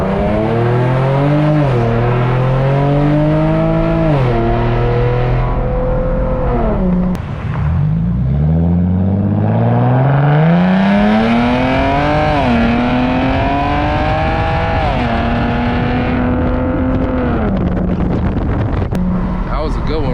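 A loud Infiniti G37X with muffler and resonator deleted revs and accelerates hard from inside the car, exhaust note climbing through repeated gear pulls, dipping briefly on a lift-off, then surging again.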